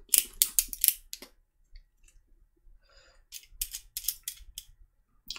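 Scissors snipping through the tape on a cardboard box, two bursts of quick, crisp close cuts separated by a quiet pause with faint rustling.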